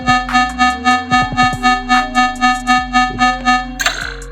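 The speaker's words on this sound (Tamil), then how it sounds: "இது பீப் சவுண்ட்." Technology-style beep sound effect: a rapid train of regular electronic tones, about three per second, with a steady low hum underneath and a brief burst of noise near the end.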